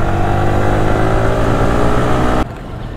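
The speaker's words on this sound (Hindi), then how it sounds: "अपनी बाइक चल चुकी है यार" A Yamaha R15M V4 motorcycle pulls away with a loud, steady engine drone that cuts off sharply near the end, leaving only faint rumble.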